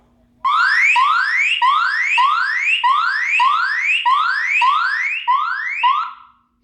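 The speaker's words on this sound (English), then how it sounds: "you have your alarm functionality, which I do warn you is quite loud" A battery-powered Wi-Fi security camera's loud electronic alarm siren blares in repeated rising sweeps, about a dozen fast whoops, starting abruptly and cutting off at the end.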